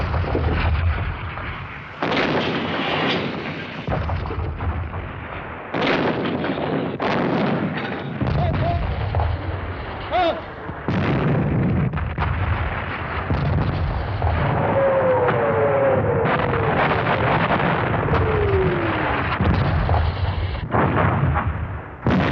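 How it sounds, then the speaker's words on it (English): A World War II artillery barrage opening the December 16th offensive: continuous loud rumbling booms and blasts, densely overlapping and sustained with no pauses, heavy low-end thunder rolling throughout. "The barrage lasted an hour and gave the Allies a taste of what they had themselves meted out at Cassino"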